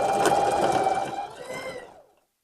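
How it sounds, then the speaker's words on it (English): A sewing machine stitching the seam of a Santa hat, a close steady mechanical whir with rapid needle clatter that slows and stops after about two seconds, followed by silence. "we'll go ahead and get this stitched"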